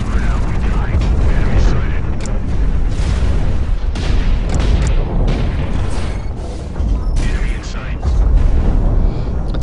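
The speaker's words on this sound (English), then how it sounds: "Getting shot at by this turret repeatedly" Turret gunfire and explosions in the mech shooter game Hawken, loud dense rumbling booms and repeated blasts layered continuously, with heavy low-end impacts and mechanical clatter throughout.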